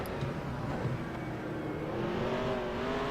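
A race car in NASCAR Racing 2003 Season drones steadily with a rising engine pitch, a continuous mid-level game engine tone with no clear braking squeal.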